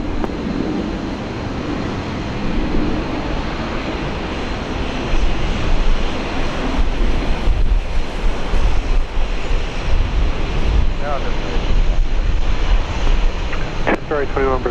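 A Qantas airliner comes in to land on runway 19 left at Brisbane International, its jet engine roar heavy and steady throughout, swelling slightly partway through, with radio talk from the tower heard over the noise.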